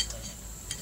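A spoon clinks against plates as dishes are handled, with a couple of quick metallic taps close by and little else around them.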